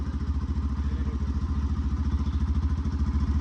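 A motorcycle engine idles after a cold start on a Konkan ride, a close, steady, rapid low thumping with an even pulsing rhythm and no talk.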